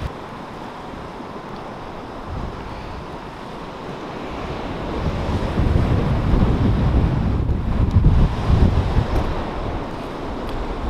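Storm-driven waves surge and crash onto the Lake Erie shore at Fort Erie in darkness, with strong wind buffeting the microphone; the roar builds louder midway through and stays steady and close, with no one speaking.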